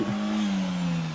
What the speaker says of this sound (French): Ils sont avec la voiture et là, ils vont partir.